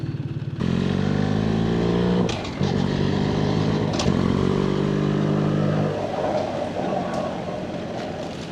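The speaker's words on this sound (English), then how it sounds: "let this car get on through here and let him get on up the road" A car passes close by on a storm-damaged road beside a river, its engine note rising and shifting over a steady motorcycle idle, with brief clattering bumps along the way.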